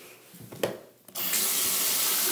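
Hot water gushes from a tap into a sink or container, starting abruptly after a few soft handling knocks and then flowing steadily and loudly.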